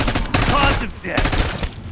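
Gunfire in Call of Duty Black Ops 6 Zombies: loud, dense bursts of rapid shots in two clusters separated by a brief lull, close and harsh.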